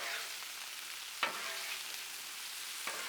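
Sausage and bacon sizzle steadily on a Blackstone griddle, a continuous bright hiss with two brief sharper scrapes of a stir, close and alone with no talk.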